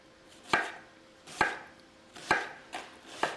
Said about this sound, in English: go ahead and at this moment cut up your red onion